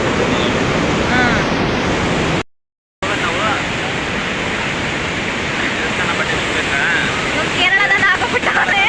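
Water rushes at Aruvikkara dam near Trivandrum, Kerala, as a loud, steady broadband roar close by, cut by one short dropout partway through.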